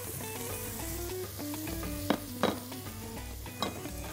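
Finely minced onion frying with leeks and chili in a pan, a steady sizzle under clinks and scrapes of a utensil stirring against the pot, with a few sharper knocks.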